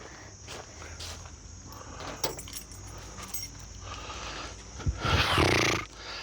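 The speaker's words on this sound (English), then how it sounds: "Oh man, the keys are over there." A bunch of keys jangles in a car speed shop, with soft metallic rattles scattered throughout and a louder, fuller burst of jingling near the end over a steady background hiss.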